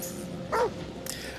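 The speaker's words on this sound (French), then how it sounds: "Donc, c'était un chien qui m'observait." A dog barks in the horror video game The Devil in Me: two short, yipping barks about half a second apart, close and clear over a low ambient background.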